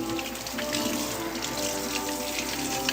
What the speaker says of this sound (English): we shall wash our hands.